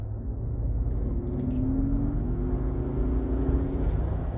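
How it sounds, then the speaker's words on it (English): Mercedes G580 EQ electric SUV sitting in traffic while playing synthetic V8 engine sound effects, a steady low droning hum with faint tonal layers, continuous and moderately quiet throughout. "it's basically fake V8 sounds to satisfy those G63 AMG buyers so that they don't have withdrawal symptoms driving this electric car"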